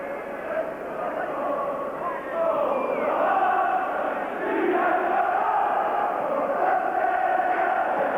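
A Hearts football crowd at a UEFA Cup match against Slavia Prague roars and chants in a sustained, fairly distant wash of cheering beneath a commentator's voice.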